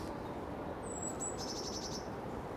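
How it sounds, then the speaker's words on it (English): Blue tits among cherry blossom give faint, high chirps, a short run of rapid thin notes over a steady outdoor background hiss. "Who would have thought that the blue tits would also be participating in Hanami?"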